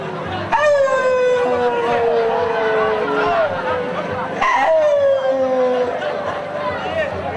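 A voice imitates a poor man's dog barking and howling, with long drawn-out wailing howls and broken yelps, loud and close, mixed with other voices.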